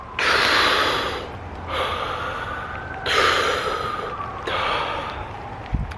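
Deep breaths of fresh outdoor air in the Canadian wilderness, four long close-up inhales and exhales in a slow, even rhythm.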